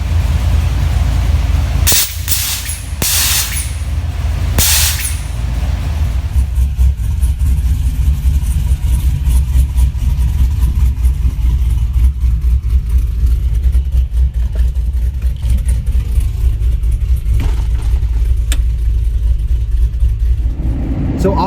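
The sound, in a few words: cammed truck engine cold start and idling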